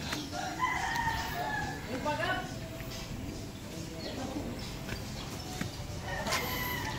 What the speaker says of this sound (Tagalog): Mga manok, dami. Manok na pang sabong.